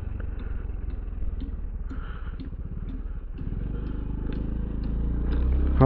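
A motorcycle rolls slowly into the Divine Angel Memorial Park, its engine puttering in a steady low idle that grows louder toward the end as it moves closer, with no voices.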